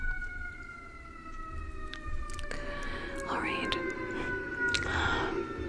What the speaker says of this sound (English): Please excuse the sirens outside.